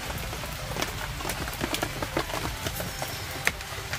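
Rain falls on a solo outdoor picnic, a soft patter of scattered drops tapping close by on a surface over a steady damp hiss.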